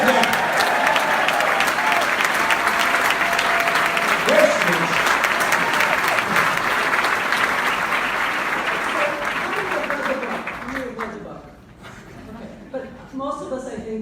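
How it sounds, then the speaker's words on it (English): A room full of people applauds loudly and steadily for several seconds, then the clapping fades as a voice begins talking. "she got the first time in history an intern gets a round of applause"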